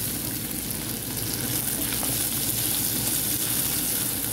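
Longganisa sausage and carrots sauté in a hot pan with a continuous, even sizzle and crackle throughout, close by and with no talking.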